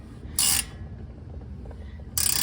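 Two short, sharp ratcheting bursts from a wrench on a Chevy Colorado or GMC Canyon upper control arm, close and loud, separated by a quieter stretch of faint shop noise.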